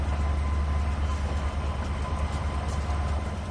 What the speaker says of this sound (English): It's an awful big engine to be making these tight curves, but we're doing it.